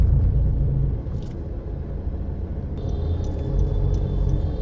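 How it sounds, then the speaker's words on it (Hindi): Heavy road traffic at Shyamal Cross Road in Ahmedabad, a loud, steady low rumble of engines nearby with no speech. "काफ़ी ट्रैफिक रहता है"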